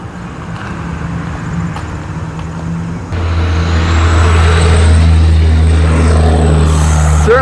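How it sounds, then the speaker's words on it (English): Triaxle trucks roll past on a road, a loud low engine drone that swells abruptly partway through as a heavy truck passes close, with a faint whine on top and no talking. "A lot of triaxles going past."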